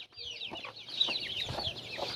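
Chickens cluck and chatter close by in a village yard in a steady stream of soft, overlapping calls, with no one speaking.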